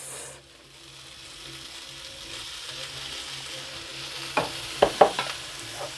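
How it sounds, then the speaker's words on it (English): Rice tipped into a hot pan for lemon and peanut fluffy rice, a steady soft sizzle with a few sharp clattering stirs near the end, close and alone. "I'm gonna tip in my rice."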